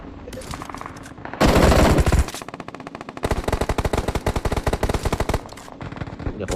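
Gunfire in the mobile battle royale PUBG Mobile, during a fight in the Pochinki town area: a loud sustained burst, then rapid rhythmic automatic volleys that fire steadily for several seconds, with a brief quiet gap between bursts.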